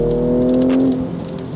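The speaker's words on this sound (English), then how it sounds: "it's a V6, but like it's a performance car, so it's gonna sound a little." A Mercedes AMG V6 performance car with a muffler revs in Sport Plus mode, a loud, close engine note that climbs and holds briefly before dropping off, heard from inside the car with no talking.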